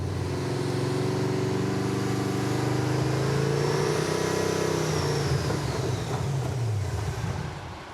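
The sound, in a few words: Camaro engine running then sputtering out of fuel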